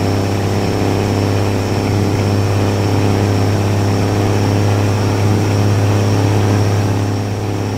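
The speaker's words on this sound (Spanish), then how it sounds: "Ese motor suena muy duro" A Kenworth T800 truck engine working hard in Colombia makes a loud, steady, droning roar with a deep low hum and constant mechanical rattle throughout, with no voices.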